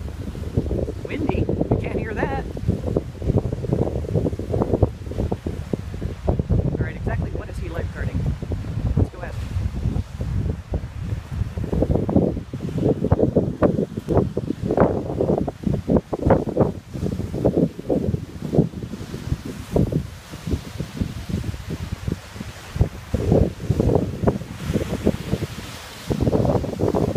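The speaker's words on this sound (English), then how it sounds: "Windy." Wind buffets the microphone on Miami Beach by the ocean, gusting in uneven, rumbling bursts throughout, with soft surf-like wash behind it.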